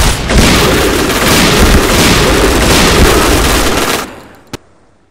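A grenade explosion in the Point Blank video game rumbles loudly for about four seconds with a dense crackling roar, then fades out, and a single sharp click follows.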